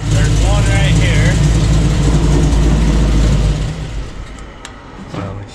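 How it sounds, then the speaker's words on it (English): Car engine idling with an exhaust leak, a loud steady low rumble with a raspy edge that drops away after a few seconds as the engine is shut off, with a voice speaking faintly underneath. "All we can hear is the exhaust leak"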